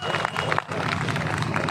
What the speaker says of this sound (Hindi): इनके लिए तालियां बजा दो भाई सारों के लिए